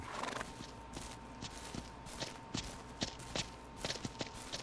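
Horses in the ranch video game Ranch Sim clip-clop along at a steady walking rhythm, with loud, close hoof strikes and a steady hum underneath.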